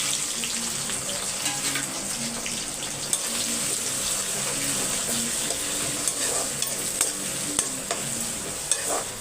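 Small onions, a large onion, curry leaves and a green chilli sauté with salt in a pan, giving a steady soft sizzle with occasional spoon scrapes and stirring clicks, close by and without talk.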